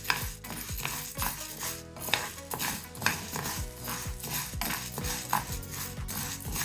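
Urad dal is dry-roasted on a tawa, a utensil scraping and clinking against the metal in quick repeated strokes as the lentils rattle and shift, close and fairly loud.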